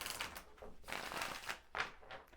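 Tarot cards are shuffled close by in quiet, soft papery riffles and slides coming in several short bursts, faint overall with no talking.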